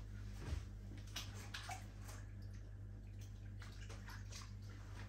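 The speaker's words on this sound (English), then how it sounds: "I'm going to give this a wash so that I can then reuse it for egg wash." Kitchen utensil rinsed under a running tap in a home kitchen, a steady quiet stream of water with soft splashes and clinks against the sink, with no voices.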